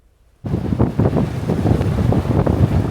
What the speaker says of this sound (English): Waves crashing on the north side jetty at the Indian River Inlet.